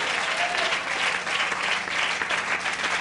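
Congregation at a Hindi Christian worship service applauds steadily, dense sustained clapping from many hands filling the room with no pause.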